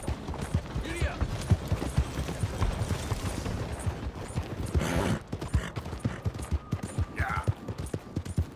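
Horse hooves clip-clop in steady rhythm across ground in Red Dead Redemption II, close and fairly loud, with a brief burst of commotion midway and a short vocal call near the start.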